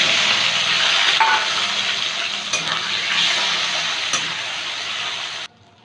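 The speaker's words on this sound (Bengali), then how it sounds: "চিংড়ি মাছটা ভেজে নেব" Prawns frying in hot mustard oil in a wok give a loud, steady sizzle with brief stirring scrapes, fading slightly before cutting off at the end.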